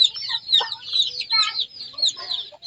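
Two mother hens with their chicks cluck and peep while feeding, producing close, continuous high chirping layered over softer clucks, with no one speaking.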